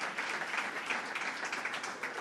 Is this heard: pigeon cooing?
no